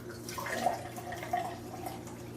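Water trickles and drips softly into a container as it fills, a faint, steady liquid patter with a few brighter splashes, heard close and alone with no talking.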